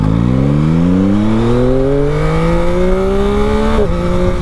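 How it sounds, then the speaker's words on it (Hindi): Yamaha MT-09 motorcycle accelerating hard in first gear, its engine note rising steadily in pitch over several seconds, loud and close, before a brief dip as the throttle eases. "पहला गेयर चेक करके देखते हैं कि पहला गेयर कितनी देर तक खींचता है।"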